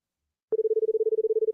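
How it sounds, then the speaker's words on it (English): A telephone tone starts abruptly and holds a single steady pitch with a fast, regular pulsing flutter for about a second, clean and isolated against silence. "The sound you used is a dial tone."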